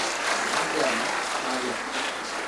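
Audience applause welcoming guests at a book launch event about Chhatrapati Shivaji Maharaj, a brief dense wash of clapping mixed with crowd noise and voices.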